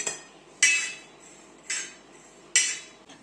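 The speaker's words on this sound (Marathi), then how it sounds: "आता आपण हे धडे आणि बडीशोप आपल्याला फक्त भाजून घ्यायची आहे" Coriander seeds and fennel dry-roasting on a hot griddle, stirred with a metal utensil: four sharp metallic scrapes and clinks land roughly a second apart, close and fairly loud, over a quiet background.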